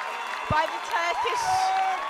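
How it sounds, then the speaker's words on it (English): A crowd cheering and applauding at a quidditch match, the 2018 IQA World Cup third-place playoff between the UK and Turkey, heard as a broad rising roar beneath a commentator's continuous talk. "The crowd is going nuts right here."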